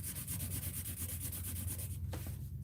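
A marker that is going dry drags across paper in an art journal, making a steady, close, rapid rubbing and scratching with a brief pause near the end.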